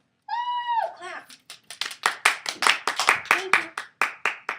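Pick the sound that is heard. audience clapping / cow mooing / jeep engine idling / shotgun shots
audience clapping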